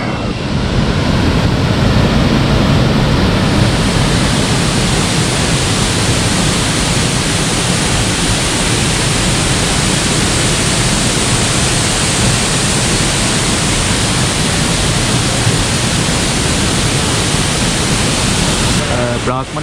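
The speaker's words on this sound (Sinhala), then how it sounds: "අපිට හම්බ වෙනවා බ්‍රාහ්මණ දියඇල්ල. අපි බ්‍රාහ්මණ දියඇල්ල ගාව ඉන්නේ. ඒක ඇත්තටම ලොකු විශාල දියඇල්ලක්." Brahmana waterfall, a large cascade about 30 metres high in Sinharaja Rainforest, roars as a steady, dense broadband rush of falling water that holds constant and loud throughout, with no other sounds standing out.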